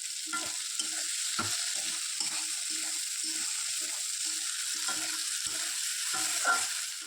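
Poppy-seed curry being stirred in a pan, with a spoon scraping in a steady series of short strokes over a constant sizzle. The stirring is near and clear, and no one speaks.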